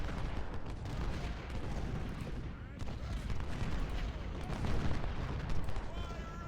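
Scattered rifle shots from sharpshooters in the Civil War strategy game Ultimate General, crackling through a dense rumble of distant battle noise that never lets up.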